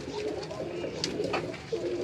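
A Ferozpuri female pigeon coos on a Karachi rooftop, soft repeated low calls close by, with faint rustles and background noise.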